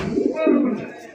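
A fancy Raj Golla pigeon gives a single low, rolling coo, close and clear, lasting about a second.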